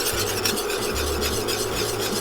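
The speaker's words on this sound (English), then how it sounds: "So just keep whisking this." Thickening cendol batter is whisked in a pot, giving a steady, dense scraping swish with no pauses, close and fairly loud, with no voices.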